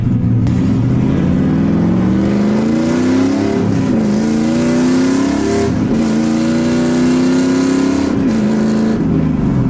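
A car accelerating hard past a listener, engine rising in pitch through several gear shifts with brief drops between them, loud and close, no speech.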